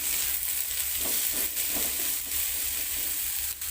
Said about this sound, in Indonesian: Setelah cabai layu, masukkan kacang panjang. Gongsreng dulu sebentar.